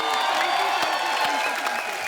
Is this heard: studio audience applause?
yes